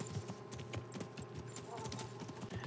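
Horse hooves clip-clop steadily at a walking pace in the medieval game Kingdom Come: Deliverance, a rhythmic series of close, regular hoofbeats over ambient game background.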